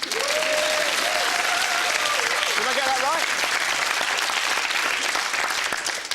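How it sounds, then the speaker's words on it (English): Studio audience applause on a television game show, loud and sustained throughout, with a voice speaking over the start of it. "please, a round of applause for Rafat Al-Mahboub."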